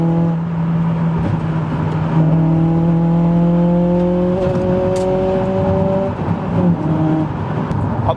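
Honda Civic FN2 with a track-focused K20 VTEC engine droning loud and close, its pitch climbing steadily through the revs with a brief lift and resettle near the end, no talking over it.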